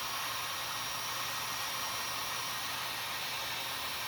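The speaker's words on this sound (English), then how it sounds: "heat the wall slightly with your hair dryer" A hair dryer heating an RV wall blows with a constant, loud whooshing whine, uninterrupted from start to finish.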